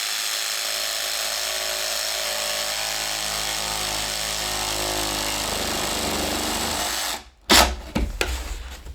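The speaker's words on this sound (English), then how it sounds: "I can kind of plunge cut it just by turning it sideways and then lowering the blade" A jigsaw plunge-cuts into an OSB wall board, its steady buzzing saw noise running loud and continuous for about seven seconds before cutting out into a few brief knocks and clatters.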